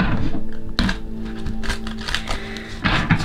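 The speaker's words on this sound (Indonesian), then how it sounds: "Aku akan langsung kocok kartunya" Tarot cards are shuffled by hand close up, giving a crisp, irregular run of clicks, flicks and soft slaps that varies in density over a few seconds.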